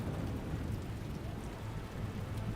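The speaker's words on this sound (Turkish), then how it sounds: "Meşhurdur Gotham'ın yağmuru. Gotham'ın şimşeği." Steady heavy rain pours over Gotham with deep rolling thunder rumbling underneath in Batman: The Telltale Series, a dense continuous wash of storm noise with no voices.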